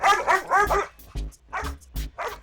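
A dog barks in a series of sharp, loud bow-wow bursts up close, with a few short yips following, in a Hindi-dubbed movie scene.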